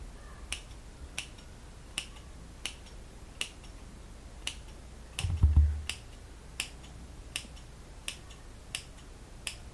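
Scissors snip away excess front lace on a curly pixie-cut glueless wig, giving a steady series of about fifteen sharp, close clicks at an even rhythm with one brief louder rustle midway and no talking.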